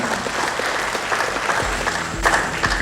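Audience applause at an anniversary event for a river logistics association in Indonesia, a dense, steady clapping crowd with a low hum underneath.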